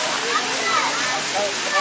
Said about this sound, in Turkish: Şu an şelaledeyiz.